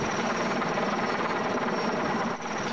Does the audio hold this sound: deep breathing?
no